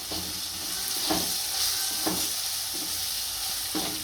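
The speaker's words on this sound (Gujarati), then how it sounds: "અને સ્વાદ અનુસાર મીઠું નાખીશું અને મરચું પાવડર નાખીશું અને ભેળવી નાખીશું" Salt and chili powder are stirred into a spinach and chickpea masala frying in a pan, giving a loud, continuous sizzle with a spoon scraping in slow, regular strokes.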